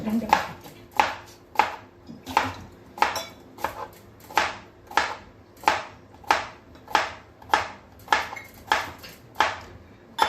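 Radish, bell pepper and carrot being chopped on a cutting board for sambar, heard as a steady series of about a dozen close, crisp knife strikes spaced roughly a second apart. A few faint voices come through between the chops.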